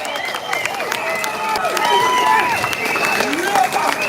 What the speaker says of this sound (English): let's send a big round of applause to everyone in Australia